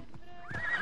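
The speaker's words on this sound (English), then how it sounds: "Yeah, I want my armored horse." An armored horse in the video game Assassin's Creed Odyssey gives a brief rising whinny over clip-clopping hooves, close and clear in a short burst.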